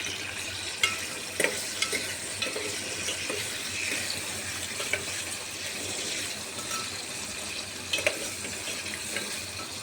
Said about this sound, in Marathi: आता कांदा जो आहे तो छान गोल्डन ब्राऊन कलर येईपर्यंत परतून घेणार आहोत।